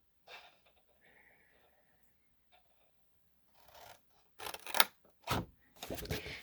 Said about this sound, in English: I'm going to take my scissors and go straight to that score line